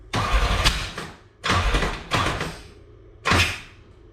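A Fiero GT 2.8L engine with a carburetor intake is cranked over in four loud bursts of starter whir and churning, separated by short pauses, close up with no talk.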